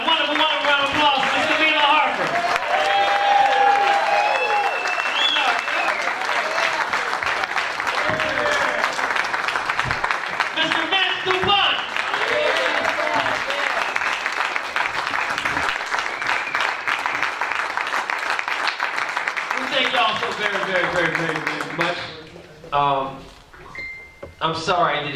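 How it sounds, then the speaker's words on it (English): An audience claps warmly after a live jazz set by Winard Harper and Jeli Posse at a Jersey City library, steady dense applause over about twenty seconds that thins out near the end, with a voice speaking over it. "How about a wonderful, wonderful round of applause."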